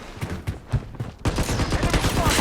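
Dual Uzis fire in the Blood Strike video game: scattered shots at first, then a dense, loud, continuous burst of rapid automatic fire that runs to the end.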